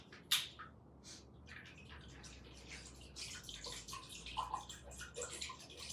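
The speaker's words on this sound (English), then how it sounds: "Got my pot on there, and I'm gonna put my water in right now." Tap water is poured into a pot sitting on a Frigidaire radiant cooktop: a soft start, then a gurgling, splashing fill that builds and becomes busier toward the end, close and with no talk.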